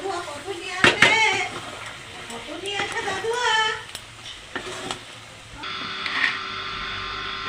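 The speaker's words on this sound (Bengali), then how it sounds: "একটুখানি চিনি দিয়ে নিয়েছি খুন্তির মধ্যে, নাড়াচাড়া দিয়ে নেবে খুঁতিটা দিয়েই।" A spatula stirs masoor lentil dal cooked with bottle gourd leaves in a pan, with scraping and clinking against the metal over a soft sizzle, while someone speaks throughout.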